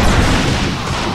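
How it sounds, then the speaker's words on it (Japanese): A pumpkin monster blows up in the Dragon Quest X online game, a loud booming burst that fills the whole short moment at full strength with no speech. "カボチャが爆発したとか。"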